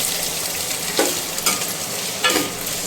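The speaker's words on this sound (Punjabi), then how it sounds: "ਪਿਆਜ਼ ਨੂੰ ਕਰਾਂਗੇ ਹਲਕਾ ਹਲਕਾ ਬ੍ਰਾਊਨ ਗੋਲਡਨ ਬਰਾਊਨ" Onions fry in a pan on medium gas for Punjabi-style kofta curry, sizzling steadily up close while a spatula stirs and scrapes in a few distinct strokes, with no talk.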